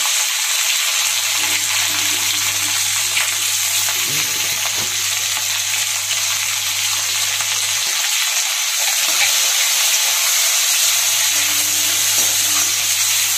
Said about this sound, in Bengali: এই পেঁয়াজগুলো দিয়ে দিলাম। এখন একসাথে এটাকে ভেজে তুলে নিব।